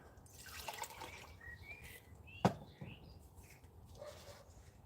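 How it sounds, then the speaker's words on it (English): Water pours and drips into a Jetboil Zip camping stove outdoors in chilly weather, giving faint trickles and a single sharp splash near the middle over soft background noise. "So I'm going to put 400 mils of water in the jetboil zip."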